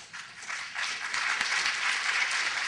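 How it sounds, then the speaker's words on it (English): An audience in a lecture hall breaks into sustained applause, a dense wash of clapping that swells and holds steady, heard from within the room at moderate distance. "All of you who are clapping, I suggest you do some more thinking."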